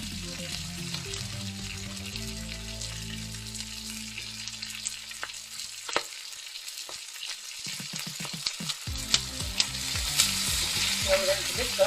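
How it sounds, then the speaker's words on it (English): Black bean paste and boiling water are stirred together into a sauce in a hot pan, a busy sizzle with scraping and stirring clatter, pausing briefly midway before resuming, no talking. "Now we're going to mix that up. So it starts to form a sauce."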